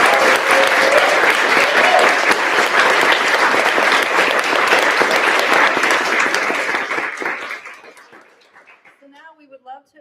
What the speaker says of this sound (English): Let's have a round of applause for the publishers and for the writers.